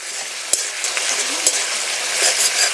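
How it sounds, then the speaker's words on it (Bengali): Tomatoes fry in a pan with a bright, steady sizzle up close, broken by a few light utensil clicks and taps against the pan. "টমেটো ভেজে নিলাম।"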